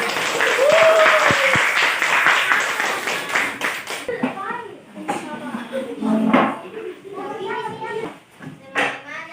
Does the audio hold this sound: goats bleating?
no